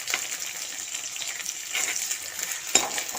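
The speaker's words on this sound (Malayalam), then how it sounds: "ഉപ്പിട്ട് കൊടുക്കുമ്പോഴത്തേക്ക് ആ ഉള്ളിയൊക്കെ ഒന്ന് വേഗം വഴന്ന് വരും." Onions sautéing with salt in a pan for a Kerala-style fish curry give a steady, soft broadband sizzle with a brief stir or scrape near the end, close and moderately loud, no talking.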